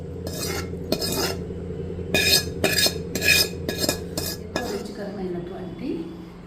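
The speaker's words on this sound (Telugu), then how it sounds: "ఈ పోపుని పచ్చడిలోకి కలుపుకోవాలి" A spoon scrapes and clinks against a pan in a series of quick strokes, stirring tempering into kaasi aku chutney, and the strokes fade out toward the end.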